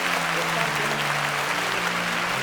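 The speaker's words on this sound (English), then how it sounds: "A round of applause for them." Audience applause at a televised Nigerian competition show, steady dense clapping throughout with a sustained voice or music tone underneath.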